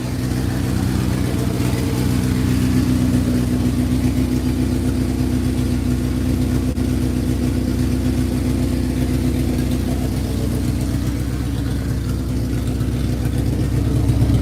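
A high-compression boosted engine in a rear-wheel-drive Honda runs steadily, a loud, close, even drone with a rough pulsing low-end and no voices over it.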